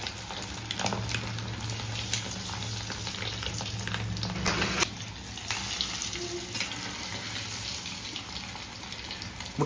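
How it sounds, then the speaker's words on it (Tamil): Pieces of quail 65 sizzle steadily as they deep-fry in hot oil, with a constant crackling hiss and a few sharper spits and clatters partway through. "சோ இதை நம்ம வந்து பொரிச்சு எடுக்க போறோம்."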